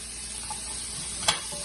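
Mushrooms frying in a hot pan give a faint, steady sizzle with a brief louder crackle near the end, and no talk over it.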